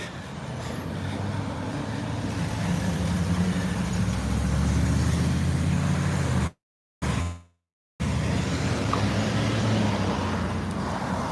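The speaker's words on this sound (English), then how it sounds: "If you live in a house on here, it's a lot of traffic noise" Heavy street traffic, trucks and cars rolling past along a busy Cleveland road, with a loud continuous rumble, a hissing air brake and a brief dropout partway through.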